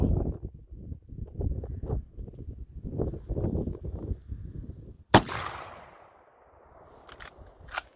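A single loud rifle shot from a Pedersoli .45-70, fired outdoors at pumpkins, cracks sharply and rings out in a fading echo. Wind or voice-like rumble comes before it, and a couple of faint clicks follow.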